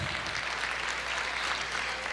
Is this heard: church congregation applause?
yes